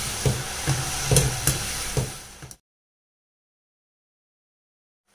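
Rice flour snack deep-frying in hot oil over a medium flame, a loud close sizzle and bubbling with a few stirring knocks for about two and a half seconds, then silence.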